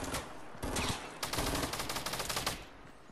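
Gunfire in Fortnite, sharp crackling shots in fast irregular bursts, some louder and nearer, others quicker and lighter, running across the whole stretch.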